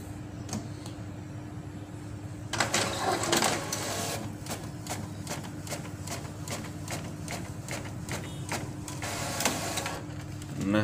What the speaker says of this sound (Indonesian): Nah, oke, kita coba print.